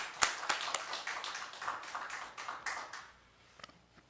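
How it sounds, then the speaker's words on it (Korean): Scattered applause from a church congregation at a revival service, a loose patter of individual claps fading after a few seconds, fairly close and without talk. "하나님께 영광의 박수 돌립니다"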